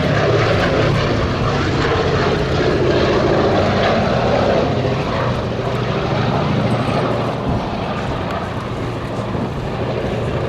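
The B-17 Flying Fortress Sally B drones past at an air festival display, its four piston propeller engines making a loud, steady, throbbing roar that fills the whole stretch and eases slightly toward the end.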